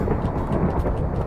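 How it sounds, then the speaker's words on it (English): A deep, loud rumble of thunder rolls through a Minecraft game world during a storm, dense and continuous across the whole moment with no voices. "That is probably the biggest thunder I think I've ever heard in Minecraft."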